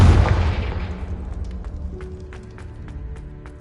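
A Confringo spell blast ignites a brazier in Hogwarts Legacy, opening with a loud booming burst that decays into a long rumbling tail with faint crackling flame ticks, no talk.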